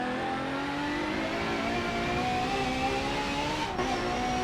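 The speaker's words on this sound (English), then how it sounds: "I really hear the engine scream to accelerate." A Ferrari FXX K's engine revving hard in Forza Motorsport 7 at the Nürburgring: a sustained, loud, high-pitched engine scream with smooth harmonics, held steady for several seconds with a brief dip near the end.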